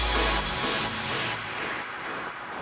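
Electronic instrument sounds in FL Studio trail off through a long delay effect, repeating echoes pulsing at a steady rhythm and slowly fading as they carry into a break in the track.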